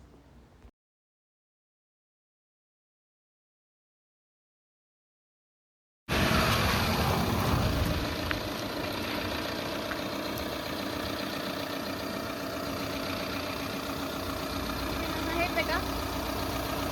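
A driving-school car runs at a steady low engine hum as it drives and turns, following a few seconds of silence, with a person talking over it.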